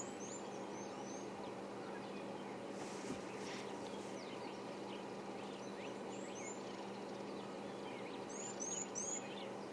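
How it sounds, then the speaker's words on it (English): High-pitched chirps of little blue waxbills in the African bush, brief thin calls scattered at a distance, a few clustered near the end, over steady low ambient hum. "you might also be able to hear a very high-pitched little blue waxbills."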